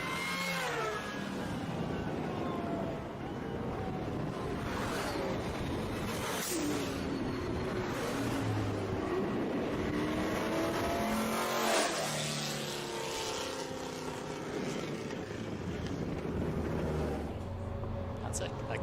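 Rare supercars at a Silverstone meet revving hard and accelerating past, engine notes rising and falling in repeated sweeping passes, loud and close with a brief tire squeal and crowd murmur and talk underneath.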